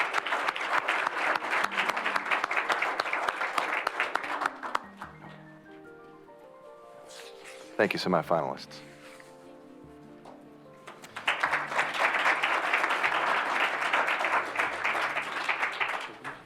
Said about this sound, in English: Please give a final round of applause.